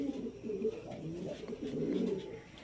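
Pigeons coo in a soft, continuous murmur of low, rolling calls, fairly close and moderately quiet throughout.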